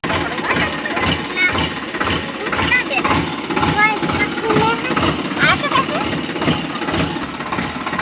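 A farm tractor runs in a village field, its engine chugging in a steady rhythmic pulse nearby while people talk over it.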